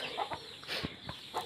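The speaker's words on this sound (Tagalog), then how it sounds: "May manok." Chickens cluck in short, scattered calls over a faint outdoor background at a backyard with ducks and other poultry, with a few brief bursts spread across the moment.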